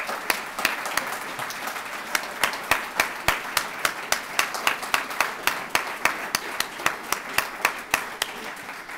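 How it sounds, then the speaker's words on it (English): A full audience claps for the staff at a nonprofit's annual meeting, a dense, steady round of applause with sharp individual claps standing out throughout. "everyone give our staff a great round of applause"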